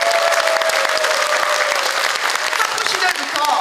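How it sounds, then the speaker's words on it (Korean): A conference hall audience at a National Assembly members' hall policy forum breaks into sustained close applause, dense and even for several seconds while a voice carries over it. "박수 한번 주세요."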